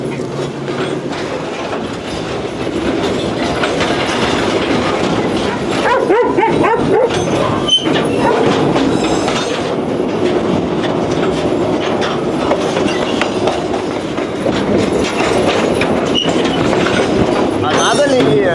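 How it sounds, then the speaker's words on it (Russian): Argentine freight train creeping forward just before departure, with loud continuous rumble, clanking cars and clickety-clack of wheels, a dog barking briefly, and people talking over the noise. "Думаешь, это отправление или он нас просто протягивает?"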